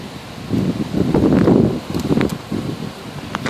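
Strong wind gusts of a tropical storm buffet the outdoors, a rushing, rustling roar that swells loudly in the middle and eases off toward the end, with no voices.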